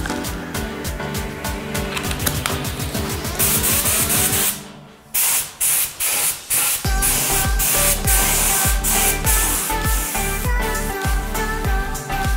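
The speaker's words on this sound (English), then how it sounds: "There's black base coat on my gun," A cheap spray gun sprays black base coat onto a frame, giving a loud, steady hiss broken by a short pause and then a run of rapid pulsing bursts.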